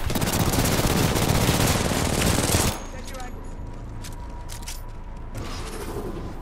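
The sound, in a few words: gunfire in the video game Titanfall 2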